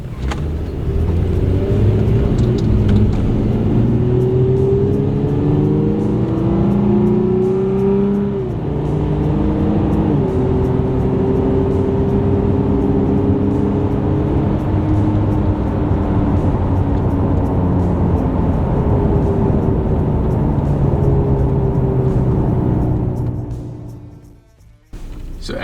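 A Toyota Tacoma pickup truck runs a 0 to 60 acceleration in city mode, its engine loud and close, climbing in pitch through several gear shifts for about twenty-three seconds before it suddenly drops away.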